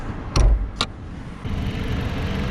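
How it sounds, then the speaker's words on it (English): A 2020 Dodge Journey Crossroad engine runs with the hood open, a steady low idle rumble close by, broken early by two short sharp clunks as the hood is handled. "the hood is very light and the engine is still running"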